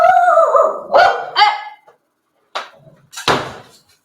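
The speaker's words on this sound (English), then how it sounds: "that's the bang that I have to make to stop the dogs barking." Dogs bark loudly and close by in a few sharp bursts, with a whimpering, howl-like opening, then a short silence and two more abrupt barks.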